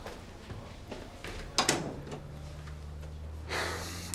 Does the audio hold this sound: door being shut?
yes